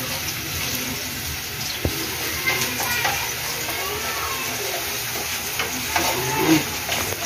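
Onion and garlic sauté in a pan for sarciadong tilapia, a continuous close sizzling hiss with occasional stirring knocks and scrapes.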